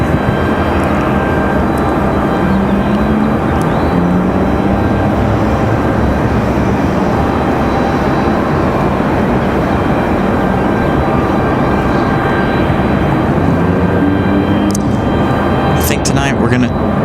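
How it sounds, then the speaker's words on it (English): Boeing 737-800 taking off from runway 23 right at Raleigh Durham airport, rotating early, a loud sustained jet roar that fills the whole stretch, with a voice talking over it. "That 737 rotating very early."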